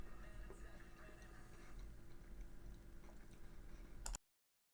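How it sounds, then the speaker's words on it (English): Someone chews rice cakes close to a microphone, giving soft, steady crunching and ticking bites over a low hum, then an abrupt cutoff into silence. "We can still hear you chewing though, Paul."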